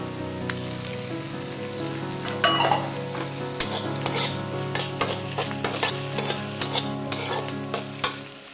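Julienne-cut chicken strips stir-fry in a hot pan for quick fried rice, a loud continuous sizzle broken by repeated rhythmic scraping and tossing strokes that grow busier toward the end, with no talking.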